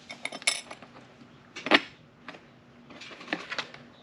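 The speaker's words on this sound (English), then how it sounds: "Bolt through a washer." Metal bolts and washers clink and rattle in hand during a trailer fender install on a Kawasaki Versys X, a cluster of small bright metallic taps and jingles, close and moderately loud, with brief quiet gaps.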